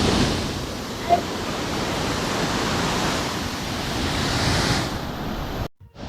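Estrella Falls in Narra, Palawan pours as a steady, loud, broadband roar of falling water, close and continuous, with a brief cut near the end.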